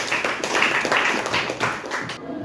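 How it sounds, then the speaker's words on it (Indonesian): A classroom of students claps for themselves at the end of a lesson, a brief round of scattered, quick hand claps from several people at close range that fades after a couple of seconds. "kita aplaus diri kita semua"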